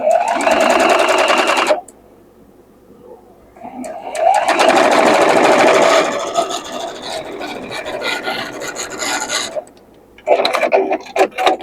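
A sewing machine stitches the top and bottom seams of a Tula Pink modern quilt block in bursts of steady, close mechanical whirring, pausing between runs while a voice talks quietly.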